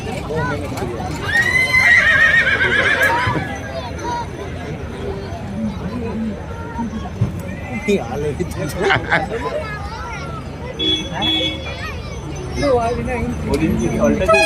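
Horses and ponies at a horse show in Surat, with a loud whinny near the start and irregular clip-clopping hooves throughout, under a crowd's chatter and an announcer's voice.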